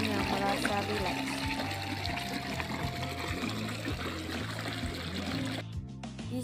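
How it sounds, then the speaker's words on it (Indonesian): Gently trickling water from water features of various sizes at a park in Kampung Banyu Mili gives a steady, soft hiss, partly masked by rhythmic background music that continues throughout. "suara gemericik air yang membuat semua orang yang mendengarnya merasa rileks"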